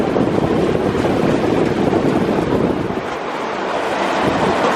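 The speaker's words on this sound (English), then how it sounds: "here's the fan sucking all the debris out. That's a pretty good breeze shooting out of there." The debris fan on an Oxbo BH100 one-row green bean picker blows a loud, continuous rushing roar of air, close to the microphone, dipping slightly near the end.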